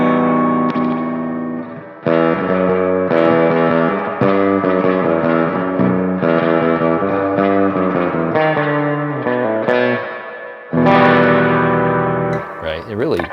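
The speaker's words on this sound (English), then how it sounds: "it really does a nice job of emulating that real trashy spring reverb sound" Distorted electric guitar chords ring out through a drippy, splashy spring reverb emulated by a Strymon BigSky pedal, with brief pauses between phrases and a long reverberant tail.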